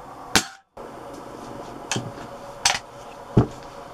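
A Webley Hawk Mk3 air rifle fires 14.5 gram pellets: four sharp, separate cracks spaced under a second apart, close and crisp over a low background hum.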